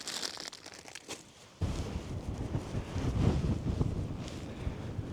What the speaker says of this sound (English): It's still really windy